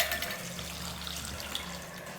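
Water pours steadily into a cooking pot for sambar with a soft splashing hiss, close by and continuous.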